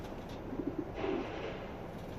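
A pigeon coos softly a few times, low and somewhat distant, over a steady background hum.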